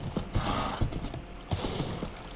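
Horse hooves clop in an uneven rhythm in Minecraft, with a few sharp steps and a faint whinny-like sound, all fairly quiet and heard alone without talk.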